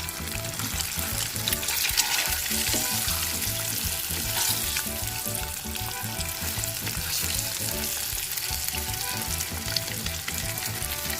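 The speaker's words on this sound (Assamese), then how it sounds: "এয়া মই তেলখিনি গৰম হ'ব দি পেলাই জিৰা, জলকীয়া মানে শুকান জলকীয়া" Cumin seeds and dried red chillies fry in hot oil with a constant, dense crackling sizzle close by. No one speaks.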